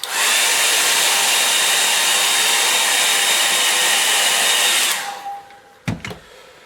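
A hair dryer blasts loudly and steadily for about five seconds while drying paint on a painting, then clicks off and winds down, followed by a brief knock.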